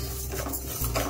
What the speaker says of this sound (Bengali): মুগ ডাল নিয়ে শুকনো খোলাতে একটু ভেজে নেব।